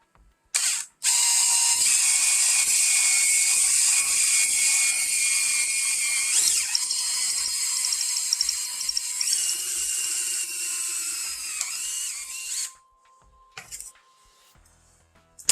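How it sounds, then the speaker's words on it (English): A drill bores holes in a piece of scrap metal for a robot lamp build: a loud, sustained high whine runs for about eleven seconds, with a brief start before it and quieter clicks after it stops. "So we're going to drill 2 holes in here."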